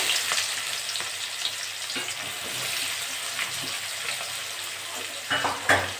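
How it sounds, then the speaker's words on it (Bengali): Onions fry in hot oil with a steady, bright sizzle that runs throughout, broken by a few soft stirring knocks near the end. "পেঁয়াজটা দিয়ে একটু ভেজে নেব"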